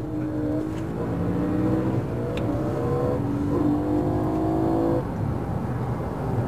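A BMW M3 on a slalom run holds a steady, loud engine note that rises and dips as the driver works the throttle through the cones, with a continuous whirring drone and no talk.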